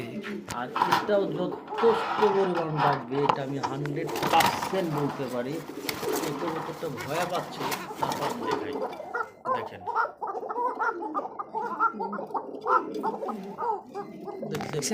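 Pigeons coo from two pairs of racing and show birds for sale, a soft throaty burbling that repeats under a man's steady speech and fills the whole stretch.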